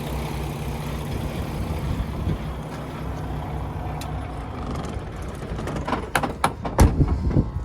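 A 2016 Peterbilt 579 truck's Paccar MX13 diesel engine idles with a steady low rumble, then sputters and knocks through a few uneven bursts as it winds down and stops.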